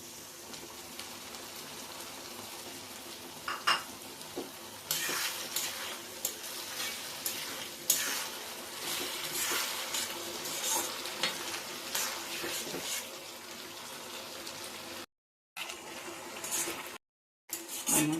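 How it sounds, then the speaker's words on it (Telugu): Lemon juice hits tempered lemon rice (chitranna) in a pan. A quiet background sizzle jumps to a louder, crackling hiss midway, then keeps bubbling in uneven bursts with short gaps of silence. "ఇప్పుడు నిమ్మరసం వేసుకుందాం."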